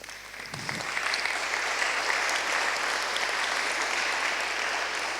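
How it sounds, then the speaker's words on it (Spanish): A church congregation breaks into warm, steady applause after a short pause, the clapping swelling quickly and holding evenly throughout. "¿Verdad que se merece un aplauso?"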